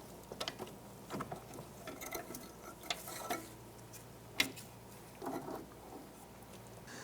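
A pry bar works a strut assembly free on a 2001-2007 Ford Escape, giving scattered metallic clicks, scrapes and a sharp clank, close and fairly quiet with pauses between efforts.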